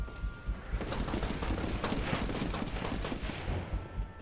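Shotgun fire in the video game Titanfall: dense, continuous bursts of close gunfire pound and crackle without pause, with no voices over them.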